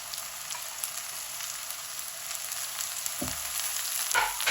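Capsicum and green chili frying in a pan give a steady soft sizzle, with a couple of brief stirring scrapes near the end and no talking.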